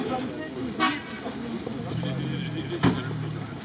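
A car horn sounds on a road, a short toot followed by a longer honk, heard from inside a moving vehicle over a steady engine and road rumble, with people talking.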